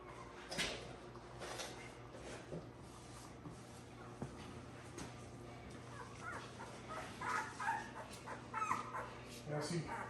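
American Bully puppies about a week and a half old whimper and yip in soft, intermittent bursts while being weighed, with a person talking over them and handling noises nearby.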